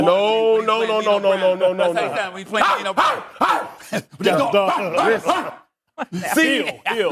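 A voice imitates a dog's barking with drawn-out, growly woofs, then talk overlaps and continues in quick, excited bursts.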